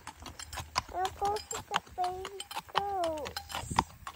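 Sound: horse hooves with a loose horseshoe clanking

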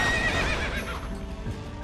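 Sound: horse neighing in the video game Warriors Orochi 3

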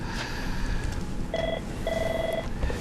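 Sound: incoming phone call tone on a call-in show

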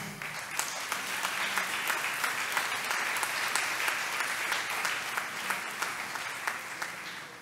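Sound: applause at an awards ceremony

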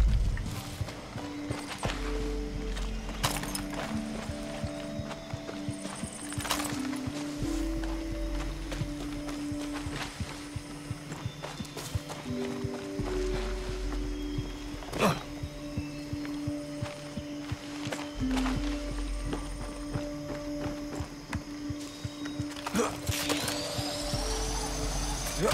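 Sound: horse hooves clip-clopping while riding, from video game Far Cry 6

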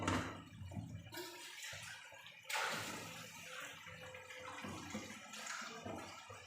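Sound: water poured into pan of taro stolons

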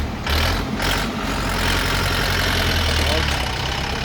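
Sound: mini tractor engine driving

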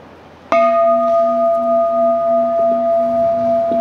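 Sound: Buddhist temple bell ringing

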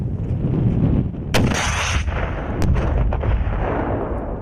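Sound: grenade launcher firing

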